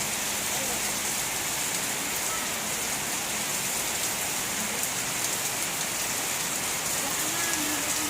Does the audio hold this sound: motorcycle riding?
no